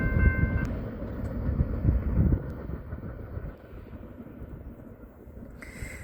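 A BNSF double-stack container freight train passes on the Marceline Subdivision, a steady low rolling rumble with wind buffeting the microphone, easing off slightly toward the end.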